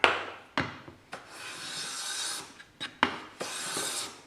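Hand plane, a Lie-Nielsen or Stanley, taking thin wood shavings: several short rasping swishes, close and fairly quiet, with brief pauses between strokes.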